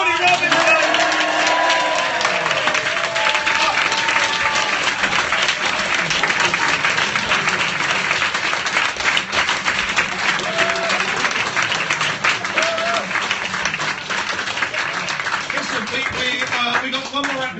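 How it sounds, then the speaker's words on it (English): A live audience at a performance night gives sustained, loud applause with cheering and scattered whoops, dense clapping filling the whole stretch with voices mixed in. "A round of applause, please,"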